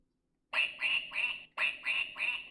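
A toy animal book's button plays a duckling's quack: two bursts of three quick, bright quacks each, loud and close with no voices over them.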